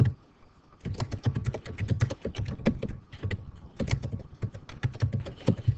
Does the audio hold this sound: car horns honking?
no